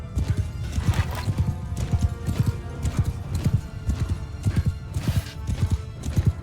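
Horses gallop in a Mount & Blade 2: Bannerlord battle, with steady rhythmic hoofbeats from many animals, close and loud, and an occasional whinny mixed in.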